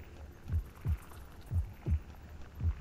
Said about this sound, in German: Ziemlich lauter Herzschlag.